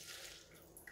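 Melted butter pours into a Thermomix in a short, faint, steady liquid trickle with a gentle splashing hiss.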